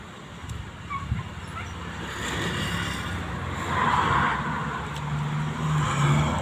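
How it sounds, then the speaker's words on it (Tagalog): Traffic rumbles steadily as vehicles pass by at a moderate distance, with a dog yipping faintly in the background. "Daming nadaan, mga sasakyan. Kaya may ingay."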